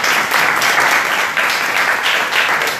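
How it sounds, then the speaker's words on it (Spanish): An audience at a book presentation applauds, a loud, steady wash of many hands clapping close by, holding evenly throughout without a break. "aplausos."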